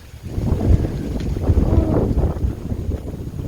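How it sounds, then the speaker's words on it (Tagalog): Strong wind buffets the microphone in heavy, low gusts that rise and fall continuously, with no voices. "lakas ng hangin guys"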